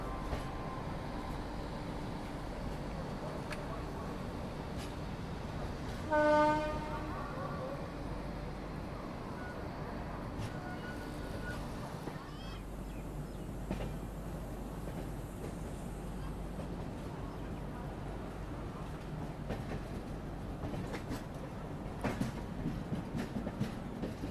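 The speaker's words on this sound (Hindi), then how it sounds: "स्टेशन के आउटर पर हमारी क्रॉसिंग हो रही है अमृतसर हावड़ा मेल से" An Indian passenger train rumbles steadily through a crossing with the Amritsar–Howrah Mail at a station outer, with one brief tonal burst early on over the continuous rolling clatter.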